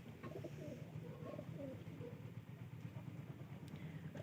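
A pair of Rajshahi Giribaz flying pigeons coo in low, repeated throaty phrases, faint and close, over a steady background hum with distant traffic.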